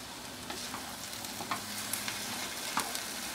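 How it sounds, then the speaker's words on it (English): Black-eyed peas simmer and sizzle in a cooking pot as they are stirred, with soft spoon scrapes and clicks over a steady bubbling hiss, no talk. "So now we're going to mix these all together."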